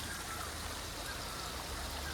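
A small stream of water runs down from above through a forest in Kurseong after heavy rain, a steady, even rushing trickle that stays fairly close and continuous with no voices.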